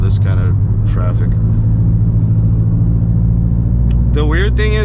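A Subaru BRZ with an aftermarket header drives along with a steady, deep engine rumble droning throughout, heard from inside the car while someone talks over it at the start and end.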